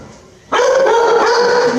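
Dogs at a humane society shelter burst into loud, close barking and howling that starts suddenly and carries on without a break, filling the kennel space.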